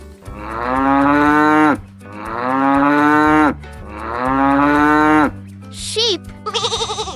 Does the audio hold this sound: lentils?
no